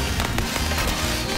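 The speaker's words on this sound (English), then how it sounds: "Stop! You can't let off firecrackers here!" Firecrackers set off at a dragon dance in an animated cartoon, heard as a brief, loud, dense burst of crackling pops that fills the moment.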